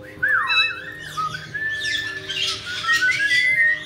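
Pet birds at home, including ones named Scooby, Mango and Spiky Bird, giving loud close squawks, rising and falling whistles and sharp chirps in an irregular overlapping stream.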